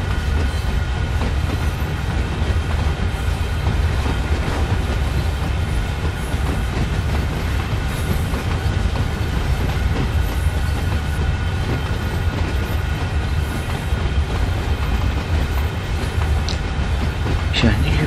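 A locomotive runs steadily in Train Sim World 2 during a morning shunting mission, a continuous loud rumble with rail clatter and faint wheel squeal throughout, with no pauses.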